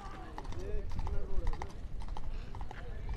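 A large Fulkari horse, about 66 inches tall, clip-clops at a market in a steady series of nearby hoof strikes, with people talking over it.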